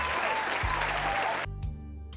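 Applause sound effect played during an online class, a continuous burst of clapping for about a second and a half that cuts off abruptly, followed by a faint low musical hum.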